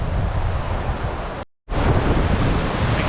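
A waterfall in Iceland roars as a loud, steady broadband rush heard close by, with wind buffeting mixed in and a brief dropout partway through.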